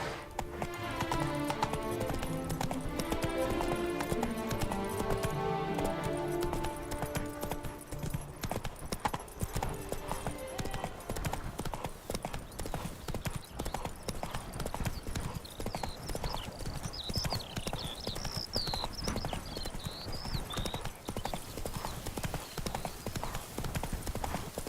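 Horse hooves clip-clop steadily at a trot in The Witcher 3, a continuous rhythmic beat carried under game music and ambient sound throughout, with an occasional faint whinny.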